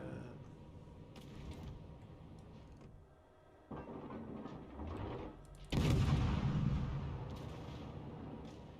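Naval guns firing in the World of Warships Legends video game, heavy booming blasts that land one after another over a low rumbling background, with the final salvo the loudest.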